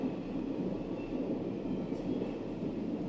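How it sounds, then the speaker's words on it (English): A train passes in the distance with a steady, low rumbling roar of rail cars that holds even throughout, heard alone without talk. "I love the sound of the train."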